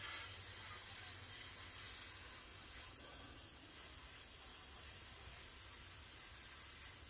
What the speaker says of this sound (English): And I'm just going to spray a light coat.